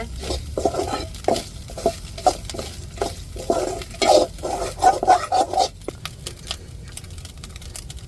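Coconut, dried red chillies, coriander and garlic are sautéed in a pan, with a spoon scraping the pan in quick, regular strokes over a steady sizzle. The sound is close and busy, with no talking.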